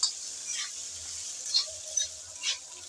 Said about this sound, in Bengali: সব মশলা দেওয়ার পর নেড়ে চেড়ে ভালোভাবে ভেজে নেব।